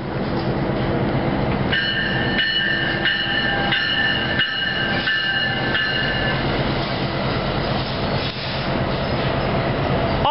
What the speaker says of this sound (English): you better get on the train.